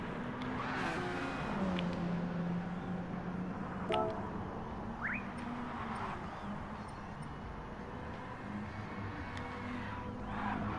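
Race cars rev and accelerate in a Gran Turismo Sport drag race at Blue Moon Bay, engines droning with rising and falling pitch over about ten seconds, joined by a brief horn-like toot, all fairly faint.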